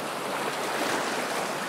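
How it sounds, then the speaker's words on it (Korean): Strong sea waves surge and crash at a shoreline spot used for night shellfish foraging, a dense, continuous roar of surf filling the air, loud and close with no voices. "와, 이 파도 센데, 여기?"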